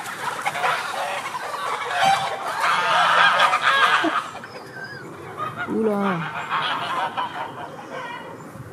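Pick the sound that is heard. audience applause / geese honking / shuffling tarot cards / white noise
geese honking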